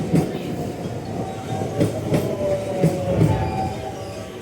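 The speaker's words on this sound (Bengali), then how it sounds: "ট্রেন চলে আসছে" A train pulls into a station in Japan, heard close by. Wheels clack rhythmically over rail joints, accompanied by a steady mechanical hum and a faint squeal.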